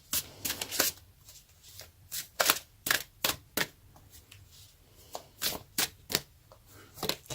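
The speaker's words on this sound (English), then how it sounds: "let's pull the card for Energy Oracle card deck for you" An Energy Oracle card deck is shuffled by hand in quick irregular bursts of crisp riffling and flicking, close and fairly quiet with short pauses between.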